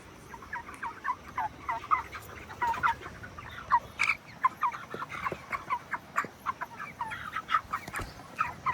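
Chickens cluck and call busily on a village poultry farm, in a flock thirty-six days into rearing. The short calls repeat steadily and overlap at close range, with no talking.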